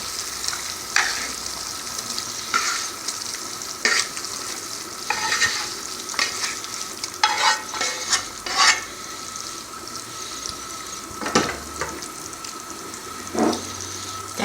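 Fried carrot, beetroot and onion going into simmering borscht with boiled potatoes, heard as bubbling liquid and repeated spoon stirs and scrapes against the pot, loud and close, no talk.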